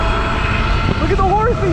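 Zero electric dirt bike running a 5 kW Golden Motor with a slack chain gives off a steady high electric whine over rushing drivetrain and wind noise, with a voice talking over the second half.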